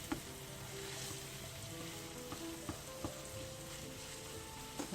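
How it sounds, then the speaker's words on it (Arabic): Minced beef frying and being stirred in a pan, a steady low sizzle with occasional soft scrapes and taps of the spoon against the pan. "ونقعد نخلط حتى يطيب لي كاع هاد لا فيوند هاشي jusqu'à la cuisson de la viande hachée."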